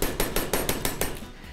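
A hammer strikes food in a home kitchen, about seven sharp, evenly spaced blows in quick succession, loud and close, with no talk.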